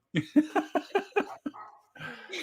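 A dog barks close by, about seven quick sharp barks in a steady burst before a higher whining yelp trails off at the end.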